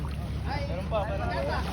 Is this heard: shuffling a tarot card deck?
no